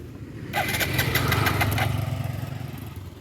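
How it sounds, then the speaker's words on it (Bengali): A motorbike engine cranks and sputters without catching, a fault that began after a part came loose rather than a bad spark plug; a dense rough churning runs close and loud for a few seconds. "বাইকটা স্টার্ট হচ্ছে না, কী জন্য আমি জানি না।"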